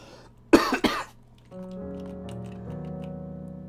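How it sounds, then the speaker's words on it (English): Two sharp coughs close together, followed by a quiet steady tone in the background. "Cough."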